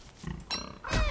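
Grunting from a pig creature in the video game Don't Starve, two or three short, close, rough grunts in quick succession.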